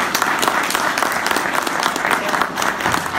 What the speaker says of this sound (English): But we can give these guys a round of applause.